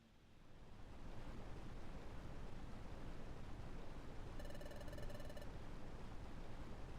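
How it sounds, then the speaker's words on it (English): A waterfall pounds in Waterfall Cave in Pokemon Mystery Dungeon: Explorers of Sky, a steady, dense roar that fades in and stays loud, with a brief game chime sounding over it partway through. "So this is the waterfall that's supposed to have a secret. Wow! Water's pounding down."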